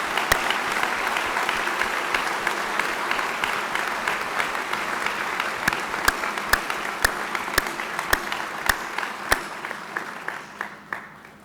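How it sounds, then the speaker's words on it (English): Commencement crowd at Dakota State University applauding faculty award winners, a broad sustained wash of clapping from a large audience, with a few sharp nearby claps standing out as it thins toward the end. "Please give these 4 outstanding faculty members a round of applause."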